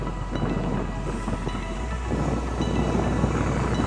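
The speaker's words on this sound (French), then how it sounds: "Le geyser de Genève." The Geneva water jet fountain sprays with a steady, dense roaring hiss, a continuous broadband rush without pause, loud and close with wind buffeting the microphone.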